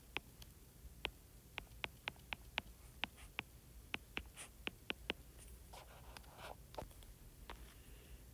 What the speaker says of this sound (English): And I'm going to write the correct number.